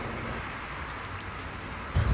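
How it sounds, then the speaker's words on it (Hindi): Heavy rain pouring steadily in cold, windy weather with no thunder, a dense, even hiss throughout, ending on a brief low thump. "सिर्फ बारिश हो रही थी साइलेंट वाली, और बहुत ज़्यादा तेज़"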